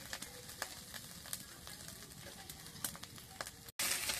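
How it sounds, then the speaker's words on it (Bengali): Green chilies and turmeric powder sizzle in hot oil, a faint steady crackle broken by soft scraping strokes of stirring, with birds chirping in the background. "কাঁচা লঙ্কা ভালো করে নাড়বো। হলদি গুঁড়ো, আরো একবার তেল দিয়ে দেব।"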